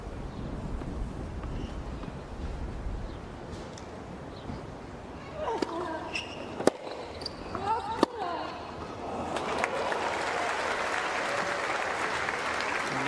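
A tennis crowd applauds in a stadium, a dense wash of clapping that fades to a murmur with a few ball hits and sharp knocks before swelling again into loud sustained applause.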